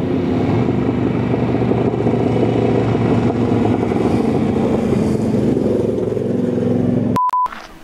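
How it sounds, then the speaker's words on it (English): Motorcycles rumble past on a road in Monument Valley, a loud steady engine drone holding for several seconds before cutting off abruptly, followed by a short electronic beep. "There's motorcycles coming behind you."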